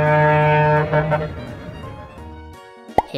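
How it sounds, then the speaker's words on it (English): A deep, sustained boat horn blast with rich steady harmonics, fading out after a second or so, followed by quieter rumbling and a brief sharp click. "What sound does a boat make?"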